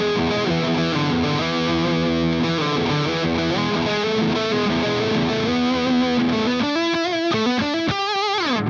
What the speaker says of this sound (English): add the open E underneath it and you get a whole different sound